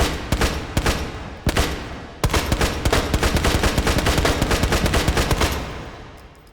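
A semi-automatic Russian rifle fired in the VR shooter H3VR: a few spaced sharp shots, then a fast, steady string of loud cracks that stops and fades into a short echoing tail, with no voices.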